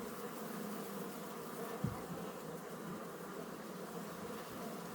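Honey bees at a hive frame during a colony split make a steady, soft buzzing hum throughout, with one brief nearby thump partway through.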